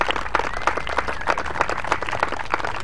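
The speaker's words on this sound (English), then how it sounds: "Give a fantastic round of applause for our Delighted final to finish group" An audience at a father-and-son golf championship claps steadily for the final group finishing their round, a sustained patter of applause from a modest outdoor crowd heard at mid distance.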